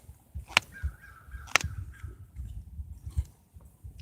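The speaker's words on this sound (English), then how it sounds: "Hear that crow?" Crow cawing outdoors during a flint-knapping session, two sharp harsh calls about a second apart, moderately distant over low rustling background noise.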